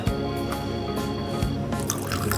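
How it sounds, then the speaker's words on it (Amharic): Flower water is poured in a thin stream into a cooking mixture, giving a close, continuous liquid trickle with small drips and splashes over a few seconds. "የአበባ ውሃ"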